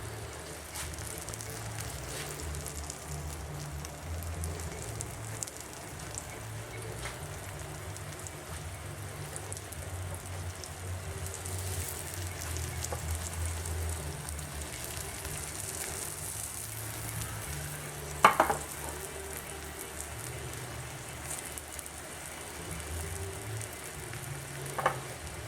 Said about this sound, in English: So now we're just waiting for the egg to cook on the bottom.